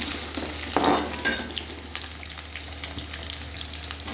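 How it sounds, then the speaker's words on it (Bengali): Potatoes fry in hot oil in a pan for a chicken curry, producing a steady, close sizzle broken by a few louder stirring scrapes. "আলুটা আগে একটু ভেজে নিই।"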